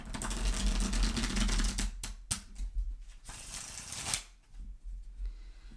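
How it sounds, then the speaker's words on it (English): Someone shuffles a Seed Baby Tarot deck, sturdy cards riffling close up in rapid crackling bursts with short pauses between the passes. "So you can see how lovely it is to shuffle."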